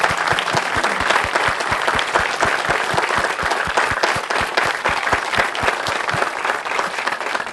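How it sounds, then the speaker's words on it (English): A crowd at the Miracle League groundbreaking in Olathe gives a long, full round of applause, dense and even throughout, with steady rhythmic clapping standing out near the front. "let's give them one more great round of applause"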